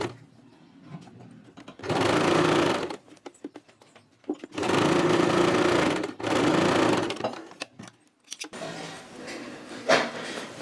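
Sewing machine stitching blouse fabric in three bursts of rapid, steady whirring of one to two seconds each, close and fairly loud, with quieter clicks and handling noises between runs and no talk.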